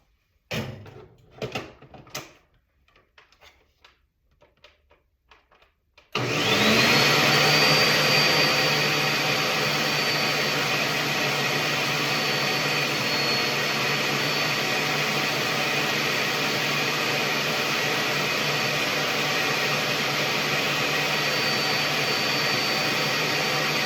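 A kitchen machine spins chicken and vegetables: after a few faint knocks and clicks, the motor starts abruptly and holds a loud, steady whirring drone close by for the rest of the time, with no voices.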